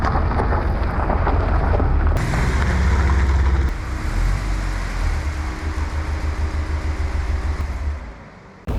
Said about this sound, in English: Just going to trundle around, make sure everything pressurizes up properly, make sure everything is fine